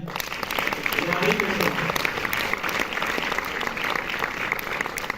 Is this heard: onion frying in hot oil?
no